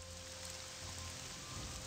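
Steady rain falls in the Morrowind video game, a dense, even hiss of raindrops with a constant low hum underneath, continuous and unchanging, no voices.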